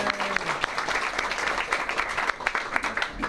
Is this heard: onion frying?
no